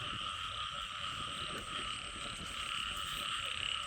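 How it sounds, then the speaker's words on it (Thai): Frogs croak loudly in a dense, continuous chorus at night in a rural Thai field, a steady wall of calls with no talking. "กบเขียดสนั่น"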